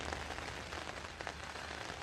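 Rain falls steadily on a surface in dense, close patter, a constant wash of drops with no voices over it.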